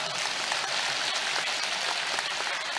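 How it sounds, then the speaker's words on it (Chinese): Audience applause at a question-and-answer session in Paris, a dense, steady burst of many hands clapping throughout, fairly loud and close, with no clear voices. "鼓掌啊！"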